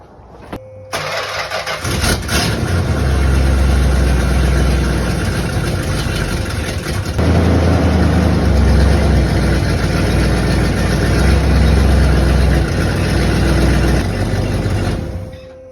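A 1972 Chrysler Newport engine cranks briefly, catches with a loud roar, then runs and idles steadily, with a second surge in revs partway through, close and alone.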